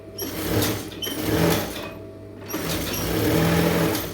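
A sewing machine runs long stitches around a canvas star neck piece, its close, rapid mechanical chatter coming in several short runs with brief pauses between them.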